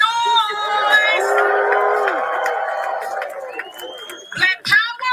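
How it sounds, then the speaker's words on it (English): A crowd at a lively rally cheers, whoops and shouts loudly and steadily for several seconds. A few sharp, louder bursts come near the end. "Come on, FBA, make some noise!"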